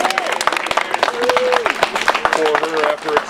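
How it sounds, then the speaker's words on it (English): An audience claps, scattered at first and then building, beneath a voice that keeps speaking over it. "I think she deserves a round of applause"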